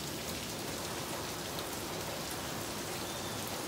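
Light morning rain falling steadily in Barueri, São Paulo, a soft even patter and hiss that holds at a constant level throughout, with no voices or thunder.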